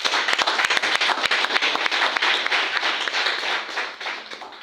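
A church congregation claps and cheers together at a worship service, a dense, loud, sustained wash of many hands that tapers slightly toward the end.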